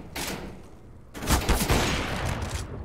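A quick, loud volley of rapid gunshots on the Overpass map in Counter-Strike, with a brief lull before a second, heavier burst of fire and no audible talk.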